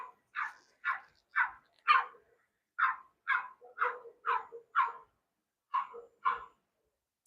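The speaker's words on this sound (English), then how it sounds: "There's a little doggy barking outside." A little dog barks outdoors in a string of about a dozen sharp, evenly spaced yaps, clear but somewhat distant, with short pauses between bursts and no voices over it.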